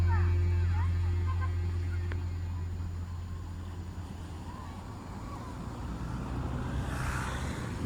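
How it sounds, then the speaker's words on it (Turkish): Road traffic passing by in Urla, heard as a steady loud rumble with wind buffeting the microphone, swelling again near the end as another vehicle approaches. "Arabalar gidip geliyor."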